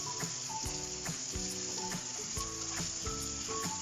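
Shrimp sizzling in garlic butter in a pan, a steady close crackle and hiss with faint periodic clinks or ticks running through it.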